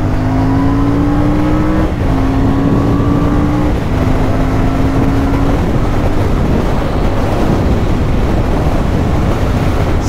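A CFMOTO 450 CL-C motorcycle accelerates hard onto a motorway, its engine note climbing in steady rising sweeps through several gear changes, loud and close under heavy wind rush.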